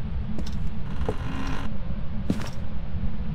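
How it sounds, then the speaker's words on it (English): Faint creaks and a few brief mechanical squeaks in the Phasmophobia ghost-hunting game, set over a constant low ambient drone in an empty house, with no talking. "Oh, I hear creaky noises"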